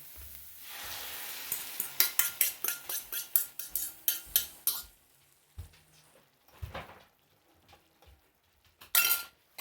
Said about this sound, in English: We'll get the eggs in here.